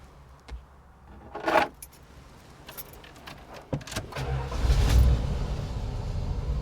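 Keys jangle as a 1984 Dodge Ramcharger truck is started. The engine cranks, catches and settles into a steady, close idle rumble.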